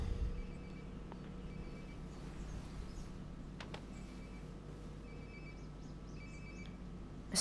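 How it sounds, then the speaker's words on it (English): A phone rings in the Life is Strange: Before the Storm video game, faint repeated electronic trills in short bursts over quiet ambient background. "Sounds like my phone is definitely nearby"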